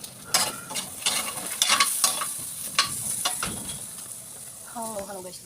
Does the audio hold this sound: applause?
no